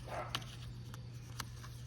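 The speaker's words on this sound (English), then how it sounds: "Yes, the dogs are outside." Dogs bark outside, faint and distant, with a couple of short yips over a steady low hum in a garage where a V8 Miata is being restored.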